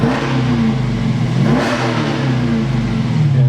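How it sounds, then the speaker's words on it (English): A 2015 Dodge Challenger SRT 392 with 485 horsepower, heard loud and close with the windows down as its engine revs hard and holds a deep, throaty roar, no voices. "And that's what an SRT 392 sounds like."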